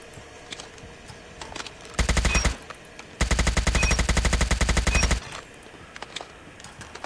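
Video game guns fired in two bursts of rapid automatic fire, a short burst followed after a brief pause by a longer sustained one, loud and close, with a faint background before and after.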